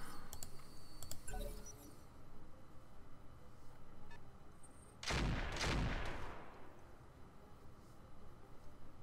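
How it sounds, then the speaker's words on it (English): Roguetech video game gunfire, a couple of brief bursts early then a louder sustained volley of booming shots over a steady background hum and faint clicks, with no talk. "Okay, they're finally shooting."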